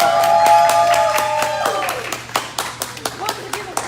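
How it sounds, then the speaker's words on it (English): Clapping from a small audience at a casual hair-care gathering, a few distinct hand claps near and clear, then thinning into scattered individual claps. "Let's give her a round of applause."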